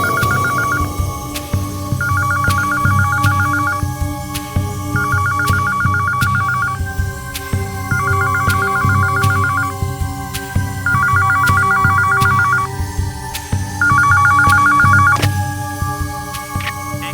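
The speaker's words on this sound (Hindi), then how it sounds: "आधी रात के बाद एक फोन आया था साहब" A telephone rings in the middle of the night, six loud electronic ring bursts in a steady repeating pattern with short gaps, close and alone over a low background hum.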